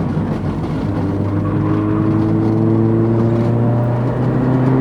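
A Mazda Miata accelerating hard on the Hallett Motor Racing Circuit, its engine holding a loud, steady, rising drone with strong harmonics throughout, no talk over it.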